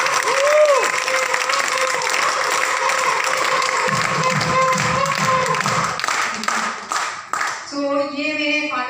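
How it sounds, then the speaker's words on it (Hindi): Loud, sustained applause from an audience at a Safe Shop network marketing event, dense continuous clapping throughout with some voices and cheering mixed in toward the end. "तो इस चीज़ के लिए सेफ शॉप और सिस्टम के लिए और मेरे ग्रेट अपलाइन के लिए एक जोरदार तालियां"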